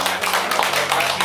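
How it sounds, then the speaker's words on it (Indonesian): A church congregation claps together in a dense, steady patter of many hands that fills the room briefly without voices. "Tepuk tangan untuk diri kita masing-masing."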